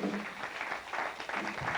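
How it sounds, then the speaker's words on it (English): A brief burst of audience applause, dense clapping heard somewhat distantly, lasting under two seconds. "Let's give a big round of applause"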